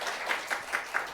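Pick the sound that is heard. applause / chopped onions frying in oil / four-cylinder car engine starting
applause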